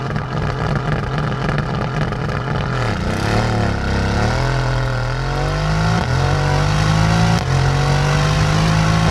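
2020 Mercedes-AMG GT R with a titanium muffler at a race start: the engine roars hard and near, climbing through the revs with clear shifts and rising pitch over several seconds, no talk.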